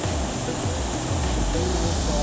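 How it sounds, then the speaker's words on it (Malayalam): Abbey Falls, a waterfall in Coorg, roars as a steady, dense broadband rush of falling water, continuous and close, with no voices over it. "ഇതാണ് നമ്മൾ പറഞ്ഞ അബ്ബേ ഫോൾസ്."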